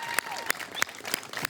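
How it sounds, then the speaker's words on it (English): Audience hand clapping at a 9/11 Patriots Day event, sparse separate claps at a slow, fairly even pace of about three per second, close and crisp over a quieter background of more applause. "Can we just honor them with a hand clap of appreciation for all that they've done"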